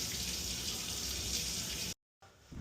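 Water runs steadily from a tap in a home with a boiler, a dense continuous hiss that cuts off abruptly near the end before a softer trickle resumes.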